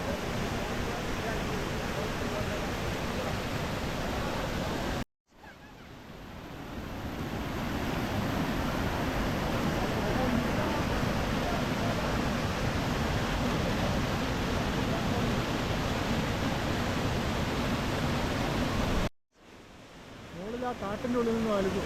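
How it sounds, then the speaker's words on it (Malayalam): A steady rushing of flowing water fills the scene, loud and continuous like a small cascade, cut by two short drops in level, at the small Chilanthiyar waterfalls near Vattavada, Idukki. "ഇങ്ങനെയുള്ള ചെറിയ ചെറിയ വെള്ളച്ചാട്ടങ്ങളാണ്"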